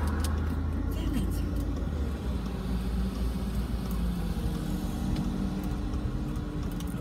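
A car drives along a road, its engine and tyre rumble a steady, close low drone throughout, with a voice speaking over it.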